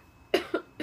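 Three short coughs from one person after smoking from a bong, close and fairly quiet, spaced unevenly within under a second.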